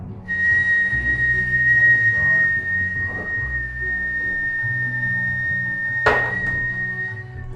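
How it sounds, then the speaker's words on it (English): A long, steady whistled exhale during a breathing meditation, held as one clear, even tone for several seconds, then ending with a short breathy burst. "Now you're going to whistle the exhale."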